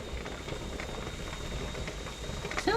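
A 1975 pressure canner heats on a stove and hisses steam steadily at low level, broken by a brief brighter burst near the end.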